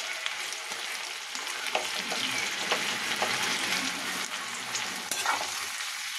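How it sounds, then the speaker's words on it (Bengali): Spice paste mixed with water goes into a pan of frying potatoes, onion and garlic, giving a steady, close sizzle with scattered crackles and stirring scrapes throughout, no talking. "এবার আমি মশলাটা, এই যে জল দিয়ে মেখে নিয়েছি, মশলাটা দিয়ে দেবো।"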